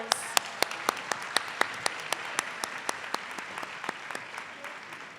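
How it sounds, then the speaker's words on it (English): Scattered applause at an academic awards ceremony honouring scholars: a few hands clap at a steady, even rhythm, each clap sharp and distinct over a soft bed of crowd clapping, moderately quiet. "round of applause for our Provost Scholars"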